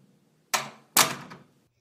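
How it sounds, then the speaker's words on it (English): A door shuts with two sharp, close knocks in quick succession, each decaying quickly into silence. "Angel shrugged and then closed the door."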